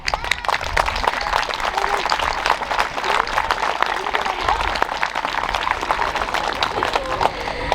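Audience applause fills a school leavers' evening for children and staff, a dense, steady clapping from a large crowd that carries on loud and unbroken throughout.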